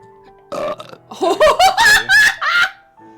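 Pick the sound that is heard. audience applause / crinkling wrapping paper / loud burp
loud burp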